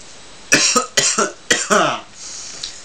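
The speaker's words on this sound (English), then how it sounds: "Great way to start an introduction, coughing." A person coughs several times in a quick, rough series of close, sharp hacks, followed by a short breath.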